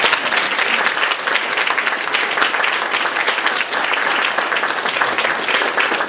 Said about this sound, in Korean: 여러분 임직회 받으실 때 큰 격려의 박수 해주시면 감사합니다.